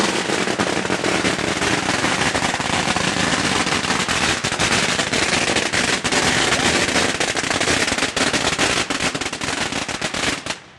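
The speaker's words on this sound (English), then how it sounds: "There were some firecrackers going off." A long, loud, unbroken barrage of firecrackers at Vancouver's Chinatown Chinese New Year parade: dense rapid-fire pops and crackles, close and sustained for about ten seconds before cutting off.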